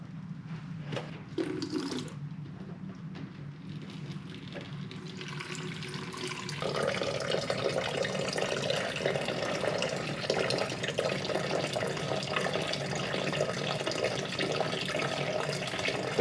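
Water pours and trickles steadily as it drains from an Avalon bottom-loading water cooler into a container, the flow growing fuller and louder partway through and continuing evenly to the end.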